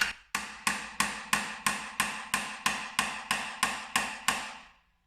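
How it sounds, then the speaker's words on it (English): Sharp metallic ball peen hammer strikes on a chisel, about fifteen evenly spaced blows each with a short ringing decay, close and alone, separating parts during transmission removal on a 2003 GMC Sierra 4WD. "I'm just going to use a small little ball peen hammer"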